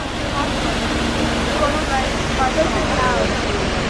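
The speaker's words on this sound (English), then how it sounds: "Waterfalls." A steady, dense roar of falling water fills the scene without pause, broad and fairly loud, like a waterfall heard from close by, on New Zealand's South Island near a glacier.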